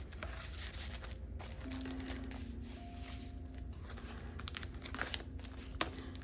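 Woven paper handled up close, giving a steady crinkling and rustling with a few sharper crackles near the end and no voices.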